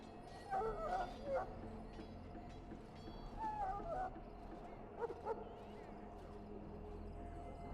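A wounded dog whimpers in the video game Dragon Age: Origins, giving a few soft, high whines and yips in short bursts over a steady low ambient hum.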